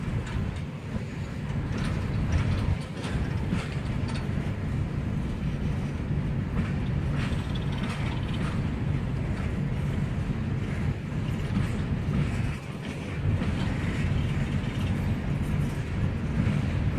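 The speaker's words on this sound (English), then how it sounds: "Look at the clack." Wheels of a westbound Norfolk Southern empty coal train clack steadily over rail joints in a continuous loud rumble, with wagons rolling past close by and no talk.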